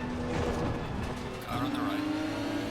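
A race car in Assetto Corsa Competizione sweeps past with a steady engine drone that rises in pitch as it goes by, close and moderately loud, while a spotter voice calls over it.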